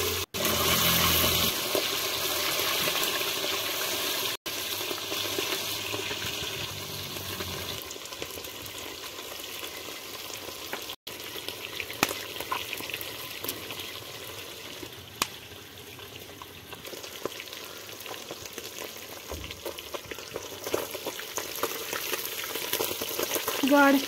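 Fish frying in a pan for a traditional fish, spinach and tomato dish, a dense continuous sizzle and crackle that holds steady throughout at close range, with a few sharp clicks and no speech.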